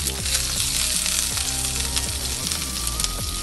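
Ginger, green chili and curry leaves fry in hot oil with cumin seeds, a dense, loud, unbroken sizzle with crackling pops, close up.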